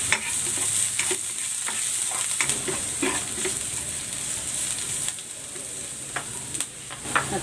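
Ginger and garlic sizzle in hot cooking oil in a pan for a fish dish, with a steady frying hiss broken by repeated scraping stirs from a utensil.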